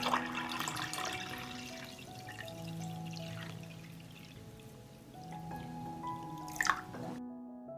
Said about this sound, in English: I will pour water up to the height of the lid.